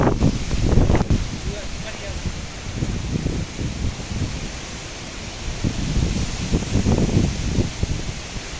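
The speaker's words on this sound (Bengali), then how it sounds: "কেমন উঠেছে বাতাস" Strong gusts of wind blow across an open outdoor spot ahead of a rainstorm, buffeting the microphone in surging waves while a person talks intermittently.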